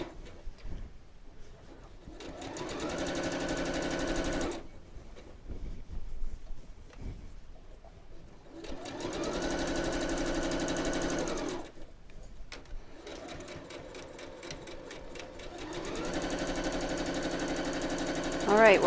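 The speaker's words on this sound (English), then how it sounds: "we can get this under the needle and sew it with our 1/4 inch seam allowance" A sewing machine stitches a quarter-inch seam on a quilt block in three steady buzzing runs of a few seconds each, separated by quiet pauses with faint handling clicks.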